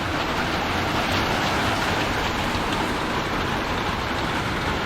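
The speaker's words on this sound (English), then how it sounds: "Alright, it's raining again." Steady rain falling outdoors around a boat during a trolling motor battery install, a dense, constant hiss of drops at even loudness throughout, with no voices.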